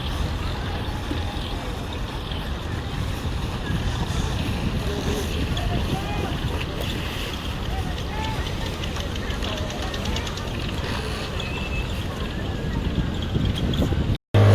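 Ferry boat departing from Thal, a steady engine rumble and water rush with wind buffeting the microphone, continuous and fairly loud, with people talking over it.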